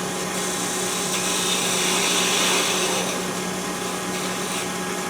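A 1/4 inch parting tool cuts into wood spinning on a lathe while turning a peppermill, a steady loud whirring hum with a scraping edge that holds evenly throughout.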